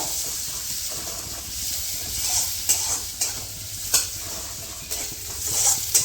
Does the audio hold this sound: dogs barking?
no